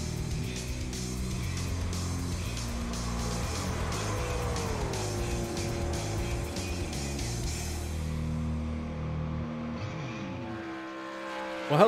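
Race cars in the iRacing simulation at Darlington howl past in a dense, steady engine roar, a pitch sweep as one car drives by, then the sound tails off near the end, with no talking.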